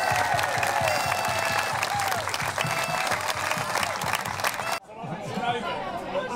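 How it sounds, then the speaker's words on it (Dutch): A crowd at a Samenloop voor Hoop charity event applauds warmly for the team, dense clapping with murmured chatter, cutting off abruptly near the end before quieter clapping and voices resume. "En geef hen allemaal een hartelijk applaus voor alles wat ze gedaan hebben."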